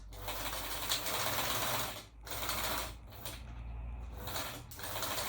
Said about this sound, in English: I get up to where the drawstring hole is, back on myself with the stitching to secure it.